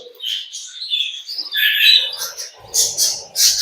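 Pet birds in an aviary chirp and tweet in quick, overlapping bursts, close and fairly clear, with a few harsher squawks, and no one speaking.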